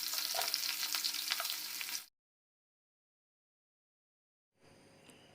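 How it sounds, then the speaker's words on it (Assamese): Sliced onion sizzles in hot mustard oil with bay leaves, a steady close frying crackle for about two seconds, then silence, then a faint low sizzle returns. "তেজপাত দুখিলা ফ্ৰাই হোৱাৰ পিছত এয়া মই এটা পিঁয়াজ কাটি ৰাখিছিলোঁ সেয়া দি দিছোঁ"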